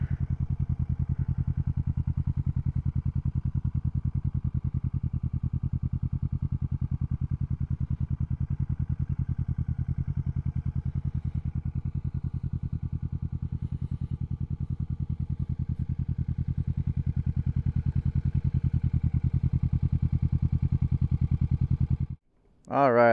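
Kawasaki Vulcan 650 S motorcycle riding on the road in fall, its engine giving a steady, loud, low drone throughout before cutting off abruptly near the end.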